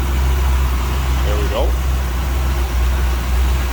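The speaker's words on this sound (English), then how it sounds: "Nice little rumble coming out of that 350" A 350 V8 with a four-barrel carburetor idles in a 1950 Oldsmobile Futuramic Club Coupe street rod, giving a steady low rumble close by while a person speaks briefly over it.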